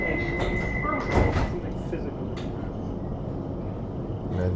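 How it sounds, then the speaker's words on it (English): A London Overground Windrush line train bound for Crystal Palace rumbles steadily along the track, with a constant high tone and some squeaks and clatters over the continuous roar of the carriage. "This is a Windrush line train to Crystal Palace."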